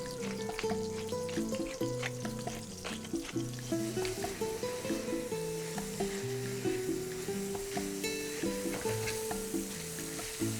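Diced tomatoes and onions caramelizing in a pan as the base for a bulalo paella, a steady close sizzle and crackle with periodic stirring scrapes, soft background music and no speech.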